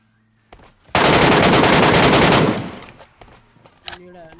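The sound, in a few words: gunfire from MK rifle in PUBG Mobile video game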